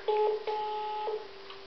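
A telephone being dialed, giving a quick series of clear electronic keypad tones: two short beeps, then a longer held tone and another beep, close and distinct in an otherwise quiet room.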